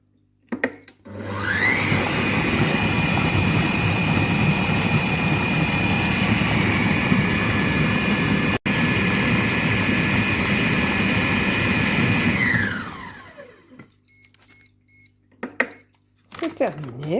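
A Compact Cook Pro multicooker blending red cabbage soup at speed 6 for about 30 seconds: a loud, steady motor whir with a high whine that spins up, holds, then winds down, with brief talk before and after.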